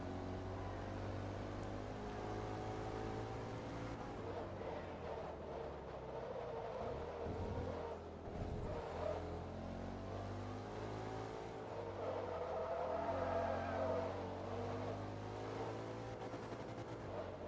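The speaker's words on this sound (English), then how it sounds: "Oh, that's a good engine noise." Racing-game car engine in Forza Motorsport 2 roars steadily through the whole stretch, its pitch shifting as it revs up and eases off, loud and close with no talking over it.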